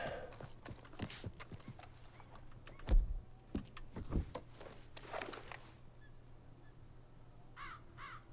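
A horse's hooves clip-clop in the video game Red Dead Redemption II, a run of uneven steps that swell to a few sharper thuds and then fade, with crows cawing faintly in the outdoor background.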